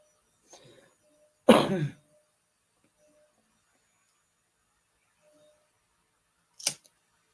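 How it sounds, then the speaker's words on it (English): A single harsh cough bursts out, loud and close, followed a few seconds later by a brief second cough in an otherwise quiet room. "I still have a bit of a cough"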